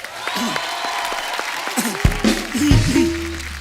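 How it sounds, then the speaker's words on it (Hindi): An audience on a televised comedy talk show applauds loudly for a web-series team, with steady clapping running through the whole stretch alongside tonal music and some crowd noise. "विसिल ब्लोअर की टीम के लिए एक बार जोरदार तालियां"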